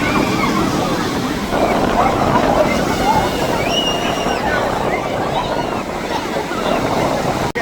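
Sea waves surge and crash onto the shore in a steady, loud, close wash of surf, with wind buffeting the microphone and faint voices underneath.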